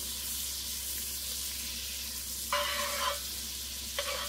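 Butter hits hot beef short rib drippings in a pan, a steady broadband sizzle running throughout with two brief louder bursts of spitting near the end.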